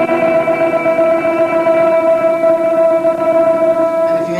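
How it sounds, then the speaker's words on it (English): Electric guitar string picked with a flat pick, ringing out as a sustained, bright tone with rich overtones that holds steady and even throughout, with no one talking. "if the pick is flat, it tends to make a sound like this."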